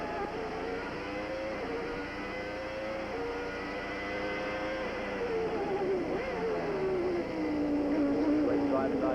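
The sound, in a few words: Renault Formula One engine onboard at the 1990 Phoenix Grand Prix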